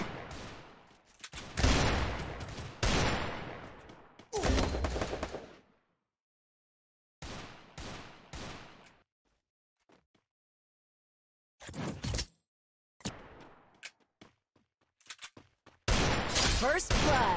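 Rapid bursts of gunfire from the Free Fire battle royale video game, loud clustered volleys separated by short silent gaps, with a final sustained barrage at the end.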